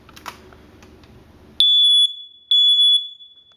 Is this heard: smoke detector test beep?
yes